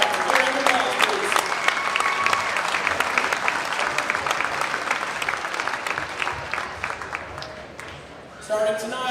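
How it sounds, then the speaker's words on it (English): Sustained applause for high school girls wrestling teams at their first-ever dual meet in a gym, dense steady clapping from a crowd that fades slightly near the end before a brief renewed burst. "A big round of applause, please."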